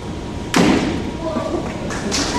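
A shoe and a pen dropped together strike a lecture-hall floor in one sharp thud, followed by a faint second tap, with a room murmur behind.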